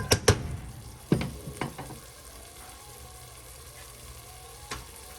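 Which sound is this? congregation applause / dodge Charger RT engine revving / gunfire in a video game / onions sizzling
onions sizzling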